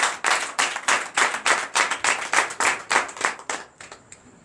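Rhythmic group clapping in unison during a night deliverance and prophecy church service in Benin, about a dozen steady claps fading out after the last beat.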